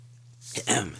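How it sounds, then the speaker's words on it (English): A short, close throat-clearing cough rises over a low steady hum, with a brief rough burst followed by a second. "Cough break. I'm going to cough."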